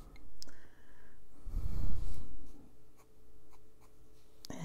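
Darker colored pencil shading grass on an adult coloring book page, a soft continuous scratchy rasp of graphite on paper with brief pauses between strokes, close and fairly quiet with no talking.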